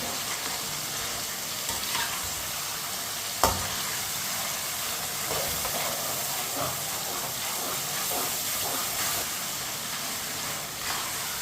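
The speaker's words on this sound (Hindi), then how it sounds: "अब इसे 2 मिनट के लिए टमाटर को पका लेंगे चम्मच चलाते हुए।" Tomatoes frying in a pan, sizzling steadily with a constant hiss while a spoon stirs them, occasional scrapes and one sharp knock against the pan; no one speaks.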